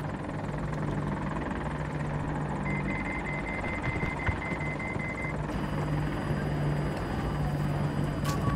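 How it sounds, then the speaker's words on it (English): A stealth helicopter in the video game Battlefield 2042 produces a continuous, loud rotor and engine thrum throughout, with faint game tones beneath and no talking. "Stealth heli front."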